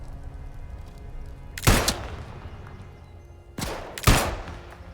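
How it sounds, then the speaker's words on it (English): Rifle fire in the video game Atomfall comes as a handful of loud, sharp shots over a low background rumble: one burst near the two-second mark, then two more in quick succession near the end. "Who is fucking rifle shooting me?"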